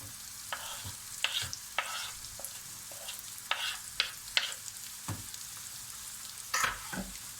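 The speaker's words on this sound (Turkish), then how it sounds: "Bunu da güzelce kavuracağım." Chopped onions and grated carrot sauté and sizzle in a pan while a utensil stirs, making scattered scraping clacks over a steady hiss, with no voices.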